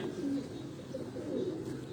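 Racing pigeons on a rooftop loft give low, soft coos in a steady murmur, a few overlapping calls close by but fairly quiet, with faint background noise.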